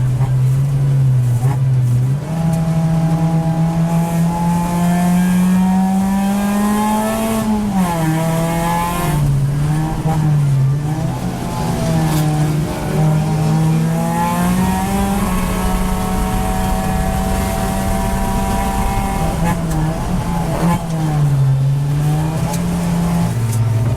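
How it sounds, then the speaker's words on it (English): A race car on an endurance run at Clark Speedway drones loudly and steadily from close range, its engine note shifting and dipping as it brakes into a left-hand corner, with no talking. "Very calm engine braking into the left-hander."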